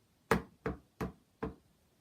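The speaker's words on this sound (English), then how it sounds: "A good technique is doing it, knocking on the door like this," Four evenly spaced knocks on a door, each a short, close, fairly soft rap with quiet pauses between.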